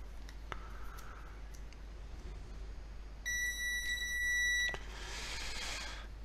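A multimeter in continuity mode, tested on circuit traces during the repair of a 1980s Pocket Simon handheld game, gives a steady electronic beep of about a second and a half, with soft clicks of the probes before it and a brief hiss after.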